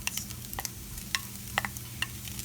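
Crumbled meat sizzles gently in a pan on a stovetop over medium-low heat, with mushroom stems and onions added. Occasional sharp utensil clicks sound through a low, steady hiss.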